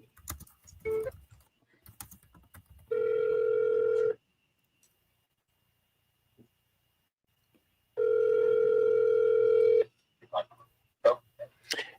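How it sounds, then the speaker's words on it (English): A voicemail recording tone on a phone line plays as two steady, clean electronic beeps, the first about a second long and the second nearly two seconds, with near silence between them. "At the tone, please record your message."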